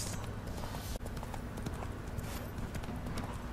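Steady clip-clop of horse hooves at a brisk walking rhythm in the video game The Witcher 3, fairly close, with a constant background hum and no talking.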